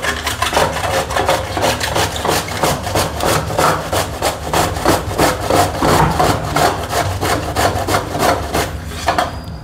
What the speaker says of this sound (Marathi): आता मी कोबी किसून घेते।